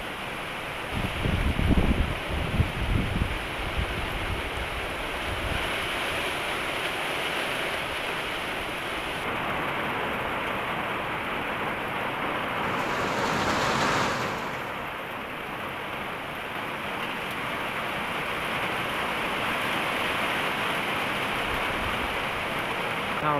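Heavy rain pours onto a corrugated metal roof outside a rural house, a steady dense roar that holds evenly throughout, with a few louder thuds near the start.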